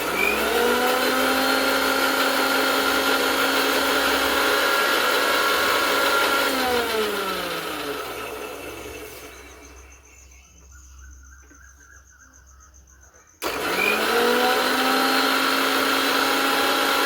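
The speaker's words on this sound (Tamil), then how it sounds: "இனி நாங்கள் இதை இந்த மிக்ஸி கப்பில் போட்டு அடிச்செடுக்க போகிறோம்." A mixer grinder blending egg whites for mayonnaise whirs loudly at high speed, winds down and nearly stops, then kicks back to full power abruptly near the end.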